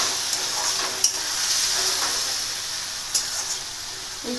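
Spice paste fried in a pan with water added, giving a steady close hiss and sizzle with a few sharp clinks of a utensil against the pan.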